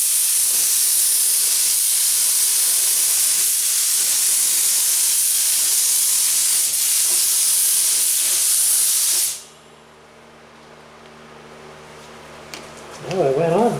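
A spray gun hisses steadily while laying a medium wet coat of PPG Envirobase clear over a Ford Tuxedo Black test panel, a loud continuous airy spray that cuts off abruptly near the end, followed by quiet room noise and a brief voice.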